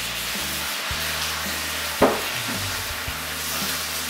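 Venison is stirred in a pan with a splash of veal stock, giving a soft, steady sizzle and scraping under a low hum, with one sharp knock of the utensil against the pan around the middle.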